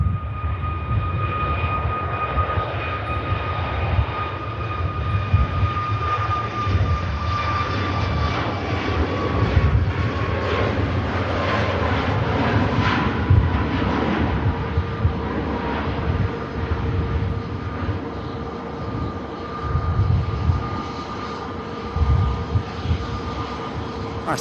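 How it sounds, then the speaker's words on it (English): A Norwegian Boeing 737 MAX jet rolls for takeoff at Manchester Airport, its engines building to a loud, steady roar with a high whine that slowly falls in pitch over nearly half a minute. "the Norwegian Max is on the roll."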